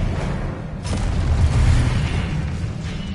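Expelliarmus spell cast in the video game Hogwarts Legacy, a loud, booming magical blast with a sharp burst near the start, swelling into a rumbling roar that holds steady for about three seconds.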